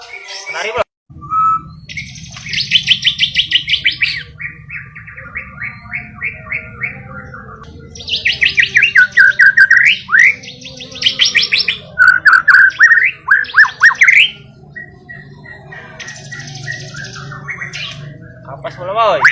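A canary (kenari) pours out loud, close bursts of rapid trills and chattering warbles in three long bouts separated by quieter gaps, over a low steady background hum.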